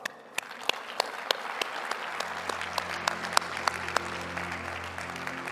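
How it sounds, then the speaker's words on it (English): An audience applauds a panel at a COP28 event at Expo City Dubai, a steady patter of clapping with sharp individual claps standing out, moderately distant and sustained. "a big round of applause for our panel"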